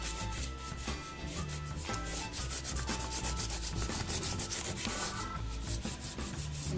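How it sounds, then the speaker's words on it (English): Crayon rubbed back and forth over paper, giving a close, continuous scratchy rasp in quick rhythmic strokes, fairly steady and unaccompanied by speech. "we're just going to rub over it, the old crayon rubbing"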